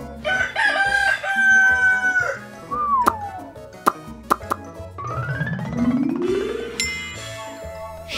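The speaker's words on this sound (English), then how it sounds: "Rooster." A rooster crows loudly in one long, rising call, followed by cartoonish plops, dings and sliding tones.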